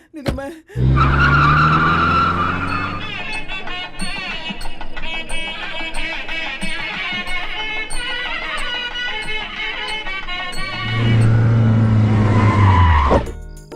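A car starts up and pulls away with a screech of tires, loud engine roar building over several seconds, then a second burst of revving and skidding near the end, with no speech over it.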